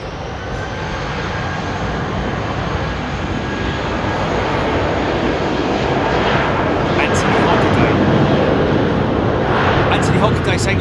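Airbus A330 jet departing Heathrow Airport, a broad engine roar that swells gradually louder toward the end, with talk over it.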